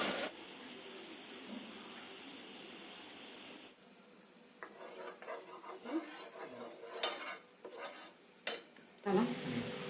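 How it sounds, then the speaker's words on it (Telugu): Ingredients frying in oil in a pan for an egg tomato curry: an even hiss of hot oil at first, then quieter frying broken by irregular clatters and scrapes of a utensil on the pan. "ఇవి కొంచెం ఉడికించుకుంటాను ఆయిల్లో."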